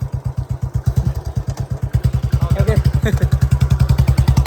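A Royal Enfield Bullet motorcycle thumps close by with its steady single-cylinder beat, the rhythmic pulses quickening slightly as it pulls away, with faint voices in the background.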